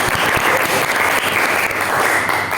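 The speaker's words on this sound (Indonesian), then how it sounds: "Tepuk tangan buat Joshua." Classroom audience claps for a student at a vocational high school electronics session, a full, close burst of applause lasting throughout without talk.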